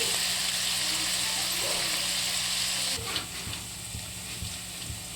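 Onions frying in a pan for egg sambar give a loud, steady sizzle for about three seconds, then a softer crackle broken by a few sharp stirring taps.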